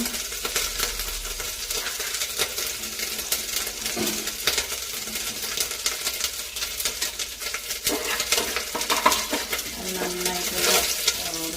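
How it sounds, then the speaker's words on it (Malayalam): Ground coconut roasting in a pan, stirred with repeated metallic scrapes and clinks of the spoon against the pan over a light sizzle. "ബ്രൗൺ കളർ ആവുന്നവരെ അതൊന്ന് ഇളക്കി കൊടുക്കാം."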